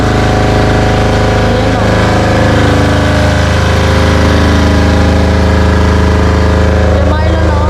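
Steady droning hum of a diesel generator running continuously nearby on a house construction site, with someone talking over it.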